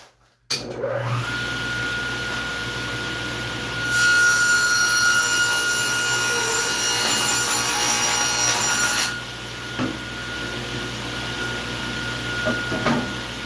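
A table saw runs with a steady motor hum, then rips a sheet of 1/4 inch plywood held against the fence, making a louder, harsher whine for about five seconds before dropping back to idle.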